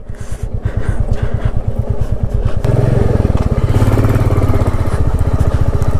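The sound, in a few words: motorcycle riding uphill, wheel skidding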